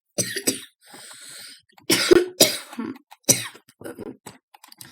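A burst of several harsh, close coughs in quick succession, followed by a few more scattered coughs and breaths.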